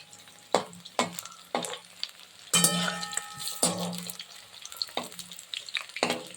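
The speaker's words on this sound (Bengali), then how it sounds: "এবারে পকোড়াগুলো উল্টে নিচ্ছি" Mushroom pakoras sizzle in hot oil, with sharp spatters and crackles as pieces are turned, loud and close, and no talking.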